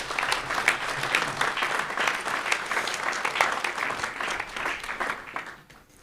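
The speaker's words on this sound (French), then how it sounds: "ça peut mériter une salle d'applaudissements" An audience applauds steadily at a mayor's New Year address in Valgelon-La Rochette, a dense, even clapping that fades out toward the end.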